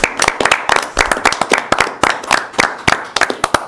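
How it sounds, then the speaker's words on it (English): Applause at a village board meeting for a retiring village official, a small group clapping close and crisp with distinct uneven claps and no talking. "would you all please applaud Nancy Dean?"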